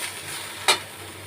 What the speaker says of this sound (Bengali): তো আর অল্প একটু ভাজলেই ভাজা হয়ে যাবে।